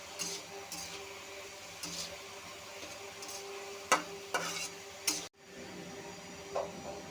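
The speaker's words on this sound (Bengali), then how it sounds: "ভালো করে মিশিয়ে একটু নেড়ে নেব।" Turmeric and chili powder are stirred into taro and hilsa roe frying in a pan. Gentle scraping runs over a low sizzle, broken by a few sharp clicks of the utensil against the pan.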